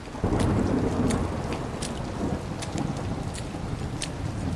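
Heavy rain pours down steadily with rolling thunder and several sharp crackling strikes, loud and close throughout, no voices.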